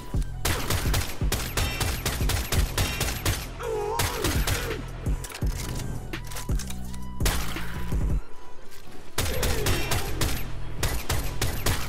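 The Latron Prime rifle fires in the game Warframe, a rapid series of sharp, loud shots in bursts with short pauses between, backed by game effects and impact sounds.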